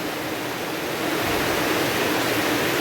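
Heavy, steady rain pouring down in a flooding downpour, a dense unbroken hiss filling the whole clip, loud and close with no voices.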